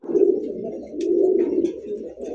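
A large male Pakistani high flyer pigeon coos in two close, low, throaty rolling phrases, near and clear, with faint background noise.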